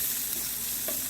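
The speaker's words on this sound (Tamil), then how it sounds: "இஞ்சி பூண்டு விழுது, பச்சை மிளகா, லேசாக வதங்கி வரட்டும்." Ginger garlic paste and green chillies sauté in a pan for chilli paneer, giving a short, steady, faint hiss of frying with no voices.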